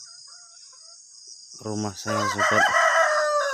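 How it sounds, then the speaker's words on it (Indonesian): A rooster crows nearby in a rural transmigration village on a morning, its harmonic call rising and breaking over a steady insect drone, while someone speaks softly just before it. "koko ayam, terdengar ya sobat"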